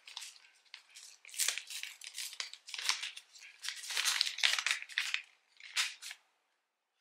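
Paper gift wrapping on a small package is torn and crinkled open at close range in a run of quick rustling and ripping bursts, then it stops.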